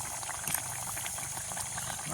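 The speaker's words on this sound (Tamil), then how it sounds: "நல்லா கொதிக்குது." Eggplant milk curry bubbling and boiling steadily in a pot, a dense simmering hiss with small pops, continuous and fairly close.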